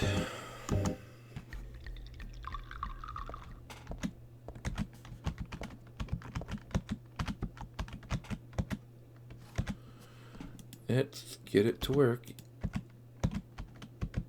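Computer keyboard keys clicked while playing Silent Hill 3, a run of sharp, close taps in irregular bursts over a low steady hum, with a voice speaking briefly near the start.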